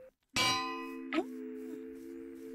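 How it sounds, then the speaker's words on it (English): A single bright clang of a bell in Minecraft rings out and decays slowly with a long, shimmering metallic tone, followed by a softer second tap while the ring fades. "What about a bell? Would a bell work?"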